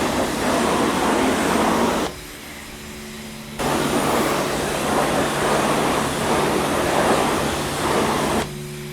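Pressure washer at a self-service car wash spraying dense chemical foam onto a car under strong pressure, a loud continuous hiss that briefly drops out mid-way then resumes, leaving a steady low hum.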